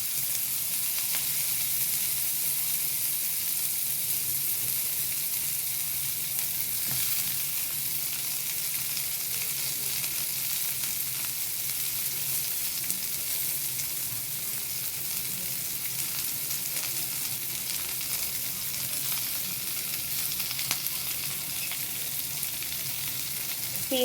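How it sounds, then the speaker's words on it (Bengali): Chopped onions frying in hot oil in a home kitchen pan, giving a continuous, close and steady sizzle that holds at an even level for the whole stretch, with no talking. "তেলটা গরম হয়ে গেছে, তেলের মধ্যে দিয়ে দেবো কিছু কুচো পেঁয়াজ"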